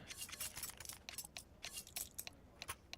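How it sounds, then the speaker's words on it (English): Rapid, faint keyboard clicks patter in irregular bursts at an esports LAN event, light crisp taps with short pauses and no voices over them. "I hear a lot of typing"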